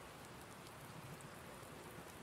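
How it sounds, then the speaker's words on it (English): Steady, even hiss of rain falling in Farming Simulator 19, a soft continuous patter with no other sounds and no talk. "it's going to keep on raining for a while"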